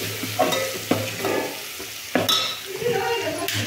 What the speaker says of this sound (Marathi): कढीपत्ता आणि लसूण आणि कोथिंबीरची पेस्ट टाकली. छान अशी परतून घ्यायची.